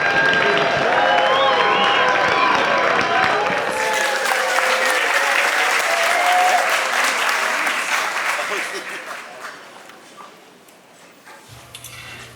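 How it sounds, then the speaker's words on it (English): An audience applauds to welcome a speaker at a gathering, dense clapping that holds loud for several seconds and then thins and fades away, leaving near quiet and a faint shuffle at the end. "So with a big round of applause, let's welcome Dr."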